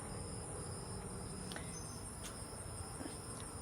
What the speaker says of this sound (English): Noisy with the bugs, the crickets.